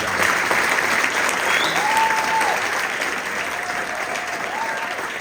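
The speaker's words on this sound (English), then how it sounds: "could we give them a round of applause?" Audience applause at a sixth-grade spring band concert, a steady even round of clapping from a seated crowd, with a few faint voices and a whistle-like tone rising through it.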